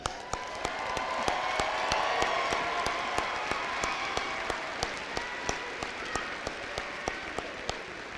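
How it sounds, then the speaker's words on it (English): An audience at a high school graduation for the class of 2018 gives a round of applause. Dense crowd clapping fills the hall and continues steadily, punctuated by sharp regular claps close by. "Let's give them a round of applause."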